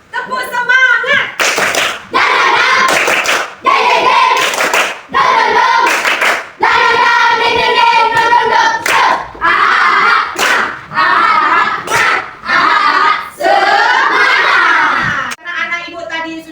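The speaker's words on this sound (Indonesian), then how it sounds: "Kalau begitu mari kita tepuk semangat." Children in a classroom perform a rhythmic spirit clapping chant, loud group claps landing in bursts between shouted, chanted words.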